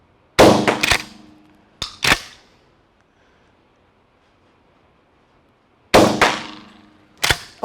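Less-lethal beanbag rounds fired from a gun on a shooting range, four sharp, loud reports in two pairs, each with a quick echoing decay and near silence between.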